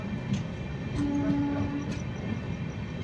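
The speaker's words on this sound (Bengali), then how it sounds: "এনজিপি স্টেশন ঢুকছে ট্রেন" Sairang Express passenger train rolling into New Jalpaiguri (NJP) station, a steady rumble of wheels with a short sustained horn tone partway through.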